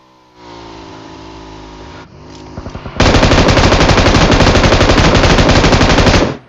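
M249 machine gun fire in the PUBG Mobile video game, one long continuous burst of rapid, loud, tightly spaced shots after a couple of quick single shots, over a background engine hum.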